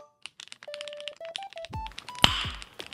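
Mechanical keyboard keys click and clack in quick irregular bursts, up close and crisp, mixed with a few short electronic tones.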